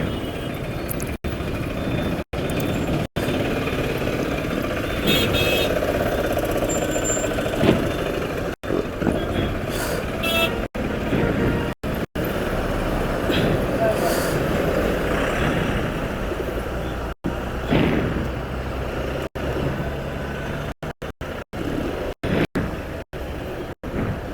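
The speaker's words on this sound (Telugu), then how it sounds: "హెవీ ట్రాఫిక్ జామ్ అయితే అయిపోయింది" Heavy jammed traffic of cars and trucks on the Hyderabad to Sangareddy road: a steady, dense roar of idling and creeping engines with intermittent reversing beeps throughout.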